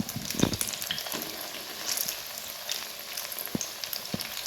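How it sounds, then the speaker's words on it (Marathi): Medu vada fry in hot oil, a steady crackling sizzle with scattered louder pops and bubbles, moderately close and continuous without any voices. "दोन्हीकडून आलटून पलटून फ्राय करून घ्यायचं आहे आपल्याला छान असे"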